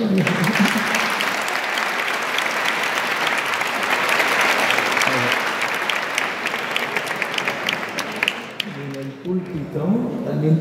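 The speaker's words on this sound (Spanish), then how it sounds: "Un fuerte aplauso." Loud, continuous applause from a crowd at an outdoor welcome event for the Cristo de Salmoral, lasting about nine seconds before it thins out and a voice begins speaking.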